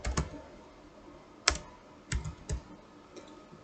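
Keys on a computer keyboard being typed in a web search, sparse close clicks and taps in small clusters with pauses between, quiet against a faint room background.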